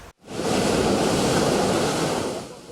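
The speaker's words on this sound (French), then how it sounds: "Derrière ces vagues" Rough surf breaking on the Corniche Ouest beach, a loud, dense wash of crashing waves that surges in after a brief silence and roars on steadily, with no voices.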